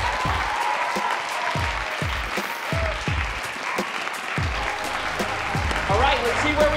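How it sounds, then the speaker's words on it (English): Audience applauding sales reps at a sales meeting, a steady burst of clapping from a sizable crowd, close and lively throughout, with a voice speaking over it. "Let's give them a round of applause."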